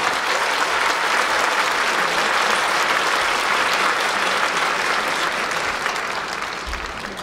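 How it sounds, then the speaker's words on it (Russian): A concert audience gives loud, sustained applause after a choir and ensemble premiere performance. The dense clapping fills the whole stretch and eases off slightly toward the end. "Давайте поддержим громкими аплодисментами,"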